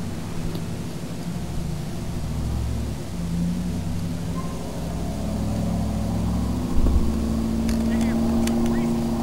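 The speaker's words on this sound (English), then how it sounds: "some vehicles going by. I have my window opened." Vehicles pass outside an open window, heard as a steady low rumble of traffic that swells slightly louder toward the end.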